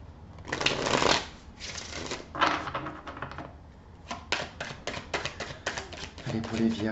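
Tarot cards are shuffled by hand in repeated riffling bursts, crisp and close, with short pauses between rounds.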